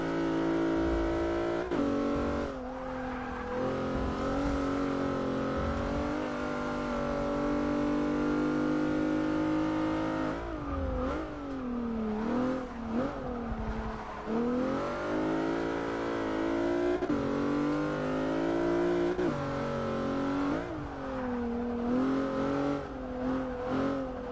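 A Plymouth Prowler drives in the racing game Forza 6, its engine revving up and down through gear changes in a continuous loud whine and growl.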